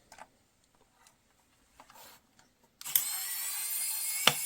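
A KAIWEETS ES20 electric screwdriver whirs up after a few light clicks and handling taps, running as a steady high-pitched motor whine close by, with a sharp click near the end.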